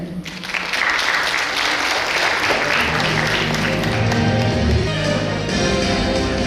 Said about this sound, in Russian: слово предоставляется председателю правкома НГДУ Шайдулину Рафаэлю Фаритовичу под ваши аплодисменты